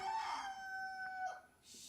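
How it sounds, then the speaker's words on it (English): A jungle rooster crows once at a moderate distance, a drawn-out call that trails off, with no talk over it. "Chase that stupid jungly rooster out of there."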